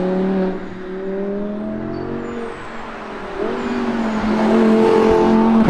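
Loud Audi R8 with a V10 engine revving hard toward its rev limiter near 9000 rpm, the pitch climbing and dipping and then rising again into a strained, sustained howl heard from close by.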